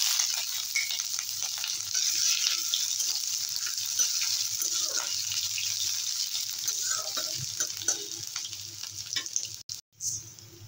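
Crushed ginger, nigella seeds and dry red chillies frying in hot oil, a steady close sizzle with scattered crackles and stirring scrapes throughout, cutting out briefly near the end.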